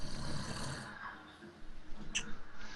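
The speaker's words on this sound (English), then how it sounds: "I don't mind them snoring." Someone snores softly on a livestream, giving slow, rough breathing swells at low volume, followed by a faint snort near the end.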